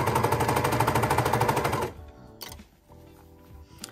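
An overlocker sews a sweatshirt neckband in a fast, rhythmic burst of mechanical stitching for about two seconds, then stops, leaving a few soft handling clicks and rustles.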